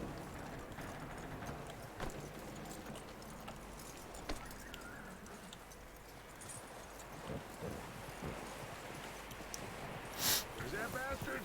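Horse hooves clip-clopping at a steady riding pace in Red Dead Redemption 2, set in a wintry Wild West landscape, with wind and ambient noise around and a brief rattle near the end.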